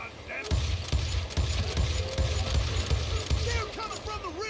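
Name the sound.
gunshots in the video game Call of Juarez Gunslinger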